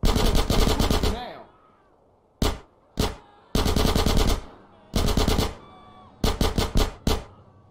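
Bursts of rapid automatic gunfire from GTA San Andreas Definitive Edition, loud and close, coming in several separate volleys with a few single sharp shots between them and brief silent gaps.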